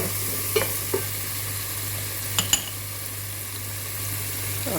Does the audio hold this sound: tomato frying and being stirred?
yes